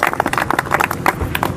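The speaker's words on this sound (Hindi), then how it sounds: "एक बार जोरदार तालियां हो जाए भाई सब" An audience claps loudly for children performing yoga poses at a Teacher's Day yoga session, a steady burst of dense, overlapping clapping throughout.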